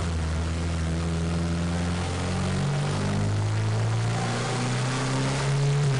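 A turbocharged truck engine runs up through the gears, a steady loud droning hum whose pitch climbs, drops at a shift and climbs again, heard from inside without talk.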